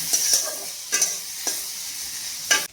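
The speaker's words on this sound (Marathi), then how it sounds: "कांदा थोडासा परतला की टोमॅटो आणि हे सगळं 2-3 मिनटं परतून घ्यायचं" Onion, garlic and tomato sautéing in a pan, with a steady sizzle and several sharp stirring scrapes at irregular intervals, close and moderately loud, with no talking.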